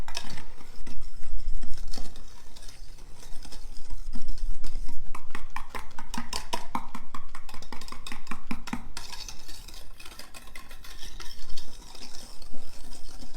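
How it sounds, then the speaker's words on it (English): A whisk stirs fudge mixture in a pot, giving quick scraping, clinking strokes against the metal in an uneven rhythm, close and moderately loud without talk. "I'm going to take my whisk and I'm going to mix it up."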